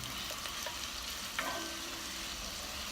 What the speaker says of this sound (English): I'm going to do the onions first because the garlic cooks really fast and it tends to burn.